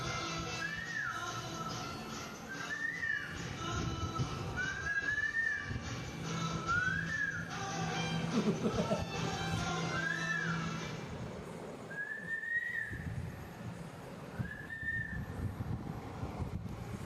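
A person whistles a repeated rising-and-falling two-note tune, about seven short phrases spaced a couple of seconds apart, moderately close over a steady background hum and some room noise.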